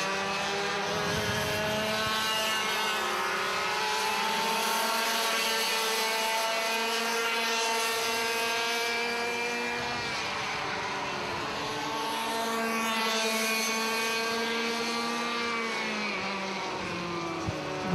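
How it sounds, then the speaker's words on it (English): Restricted 125 class go-karts race in a combined class final at the 2010 City of Adelaide Kart Titles, several engines producing a continuous, loud, high-pitched whine that rises and falls as they pass. "And Troy Bennett climbing all over the back. Of the 80 go-kart of Paul Clopers."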